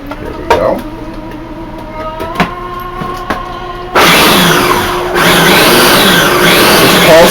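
A blender pulses pesto ingredients with garlic and salt. Quiet kitchen clatter comes first, then the motor bursts in loud and close, stops briefly and whirs again.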